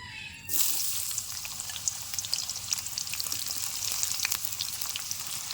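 Chopped onion dropped into hot white oil in a wok, a sudden loud sizzle that settles into a steady crackling fry with small pops, close and continuous.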